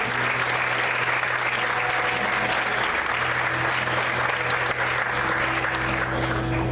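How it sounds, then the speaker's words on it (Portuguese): A church congregation applauds together in praise, a steady dense wash of clapping that stays loud and even throughout with a low hum underneath. "Vamos aplaudir o Senhor."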